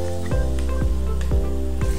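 Wood ear mushrooms stir-fry in a wok with a steady sizzle, broken by regular scraping strokes about every half second, close and fairly loud.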